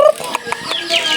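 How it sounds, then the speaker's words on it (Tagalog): Pet chickens cluck in short, close bursts, with a few sharper calls spread across a brief moment and no voices over them. "Nera mga alagang chicken, nagsunod-sunod na kay sunod ngadto nagtuwa"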